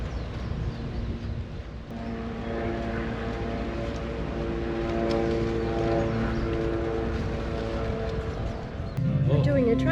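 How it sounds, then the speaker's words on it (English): A tourist train on Kauai rumbles steadily with a low droning hum and faint clanking, growing slightly louder toward the end, while people talk in the background. "We're on the train"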